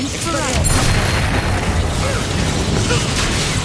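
Expulso spell explosion in Hogwarts Legacy, a dense roaring burst of game combat noise that holds steady throughout, with whooshing magical effects layered over the blast.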